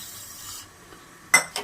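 A spoon scrapes twice against a pot while stirring colostrum milk with sugar, each stroke short, close and soft after a quiet pause.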